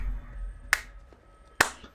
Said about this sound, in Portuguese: Palmas lentas pra ele.